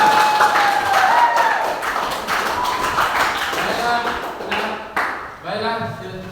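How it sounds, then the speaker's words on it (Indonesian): A classroom of students applauds after their presentation, a dense run of clapping throughout with tonal chimes and a voice partly over it, dropping briefly near the end before resuming. "Patut kita beri aplaus yang luar biasa ya"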